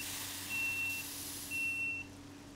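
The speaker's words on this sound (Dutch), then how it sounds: "Ik hoor wel het alarm van de deuren, maar de deuren gaan zelf nog niet dicht." Train door closing alarm in Train Simulator 2015 on an Arriva GTW train on the Valleilijn: two clear high electronic beeps, each about half a second long and a second apart, over a low, steady cab hum.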